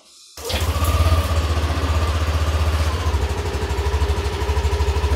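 A Yamaha Aerox scooter engine with a stock exhaust starts and settles into a steady idle, a low rapid putter that stays loud and close throughout.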